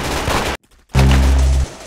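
Gunfire in the Roblox-style shooter game Arsenal, a loud burst of rapid shots, a brief silence, then another dense sustained burst.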